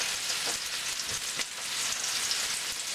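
A pork roast, fatty side down, browns in a hot pan with a continuous close crackling sizzle, faint clinks of moving utensils breaking through now and then.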